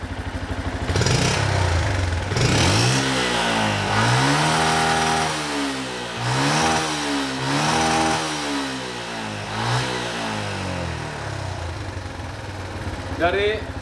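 A Yamaha Jupiter MX motorcycle engine is revved repeatedly, each throttle blip rising and falling in pitch in a steady rhythm, loud and close.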